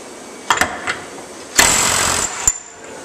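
Ingersoll Rand W7150 20V half-inch cordless impact wrench removing a bolt: a few short clicks and taps, then a loud, close hammering burst of about a second that cuts off sharply, followed by a final tap.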